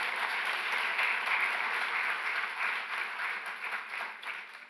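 Applause from a keynote audience honouring them, a dense continuous wash of many hands clapping that holds steady and begins to fade slightly toward the close.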